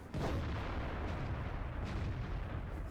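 A tank cannon in World of Tanks fires an armor-piercing round, a heavy booming report with a rumbling low-end tail that stays loud and sustained across the whole stretch, with no voices.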